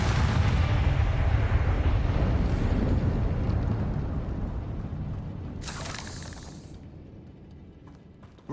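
A Confringo fire spell explodes in the Hogwarts Legacy video game: a loud, close booming blast whose rumbling roar slowly fades, with a brief crackling burst midway and a sharp pop at the very end.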